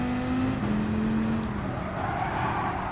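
A race car in Gran Turismo 7 runs downhill through the corkscrew at an American circuit, a steady loud engine drone that eases off and shifts pitch under braking, with rushing tire and wind noise.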